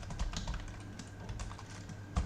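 Close computer keyboard typing while code is entered, with a quick irregular patter of soft key clicks throughout and one louder keystroke at the end.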